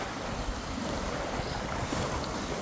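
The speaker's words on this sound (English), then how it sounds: "All the waves, huh?" Ocean waves wash in steady and broadband as a dog is coaxed into deeper water, with wind buffeting the microphone throughout and no talk over the surf.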